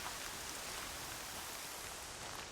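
Steady, even rain hiss from the Horizon Zero Dawn video game, a continuous broadband wash of falling drops heard alone at moderate level with no voices.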